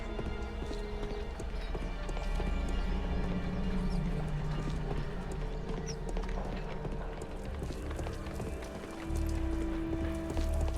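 A startled horse's hooves clatter in a steady clip-clop with an occasional neigh during a carriage accident scene in a Sherlock Holmes video game, close and loud over a low rumbling background.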